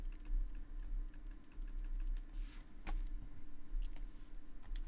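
Quiet typing on a computer keyboard during desktop publishing work, a steady stream of soft, faint key clicks over a low background hum.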